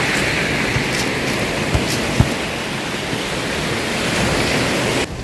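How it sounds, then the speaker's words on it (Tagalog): Large ocean waves breaking at high tide on a beach in General Nakar, Quezon, a loud, steady, broadband wash of surf filling the whole clip with no talk. "High tide, kaya malaki yung alon."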